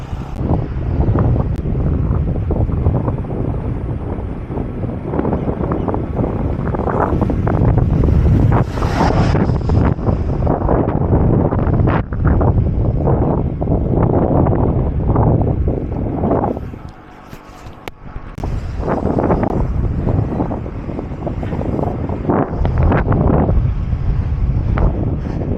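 Strong wind buffets the microphone on a long-distance Audax Baler 200 bike ride, a loud, continuous roaring rumble that briefly drops near the end before surging back.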